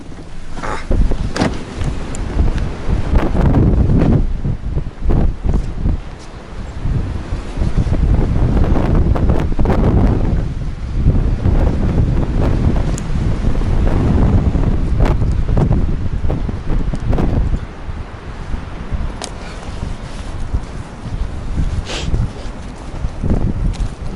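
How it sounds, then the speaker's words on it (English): Strong gusts of wind buffet the microphone in loud, rough surges, rising and dropping repeatedly with brief calmer gaps. "it's cold and windy"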